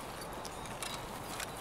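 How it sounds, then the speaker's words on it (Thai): Soft footsteps in the tactical shooter Escape From Tarkov, a faint, steady patter of light steps under a constant noisy background, with a couple of slightly sharper scuffs near the end. "มีเสียงเท้านะ"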